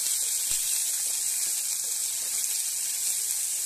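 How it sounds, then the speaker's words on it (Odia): Onions and garlic fry in a pan for mushroom curry, giving a steady, close, bright sizzling hiss that runs evenly throughout without any talk. "ଏବେ ଏହାକୁ ଭଲ ଭାବେ ଭାଜିବା।"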